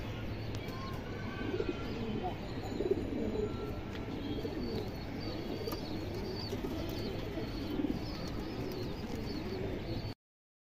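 Silver bezi pigeons coo in a steady low murmur, several birds overlapping close by, with faint chirps above and some background rustle throughout.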